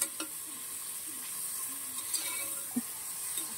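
Oil heats in a pressure cooker before biryani is fried, making a faint, steady hiss with a few soft ticks and clicks scattered through it.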